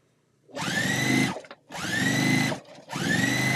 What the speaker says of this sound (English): after I sew this row on